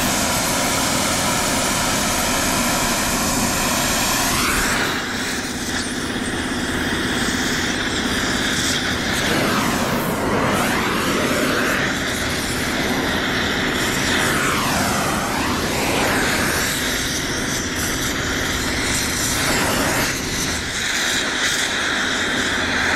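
A torch roars steadily as it heats a badly corroded hub bearing on a 2008 Jaguar XJ 4.2, loud and close, with sweeping shifts in tone as the flame moves.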